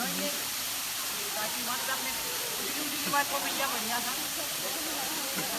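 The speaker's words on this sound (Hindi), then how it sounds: "तो यहाँ आप झरने की आवाज़ सुन सकते हो।" Sidhbaba Waterfall gives a constant hissing rush of falling water that stays even and fairly loud, with faint voices in the background.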